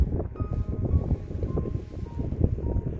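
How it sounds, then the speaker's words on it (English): A bitter wind gusts across a snow-capped wilderness, rumbling low and steady against the microphone with uneven buffeting bursts, plus faint high tones from a metal detector underneath. "there's a really bitter wind coming from somewhere now"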